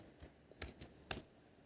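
A few faint, sparse clicks of typing on a computer keyboard, four or five separate keystrokes in a quiet room.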